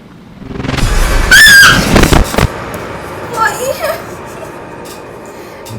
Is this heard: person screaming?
yes